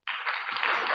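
Audience clapping breaks out abruptly and holds steady as a dense, fairly loud patter of many hands for about a second at a live Filipino comedy show.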